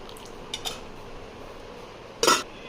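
Bowls and dishes are set down in a home kitchen, with a couple of faint clinks early on and one louder, sharp clatter near the end against a quiet background.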